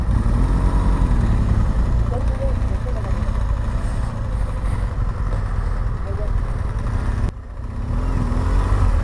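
A motorcycle stuck in deep mud on a mountain road toward Taobat, Kashmir, its engine droning and revving steadily and loudly with a brief drop near the end, while people talk over it.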